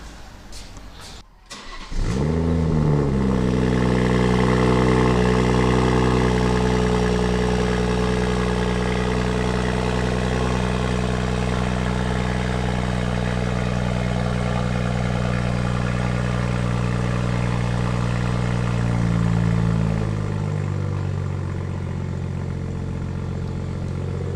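A BMW M240i with a Dinan midpipe exhaust catches on a cold start after a brief crank and settles into a loud, steady idle that holds for about twenty seconds before the revs ease slightly lower.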